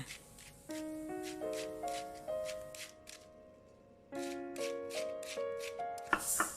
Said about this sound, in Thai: ซอยกระหล่ำปลีให้บางๆค่ะ ใช้ที่ขูดแบบนี้ก็ได้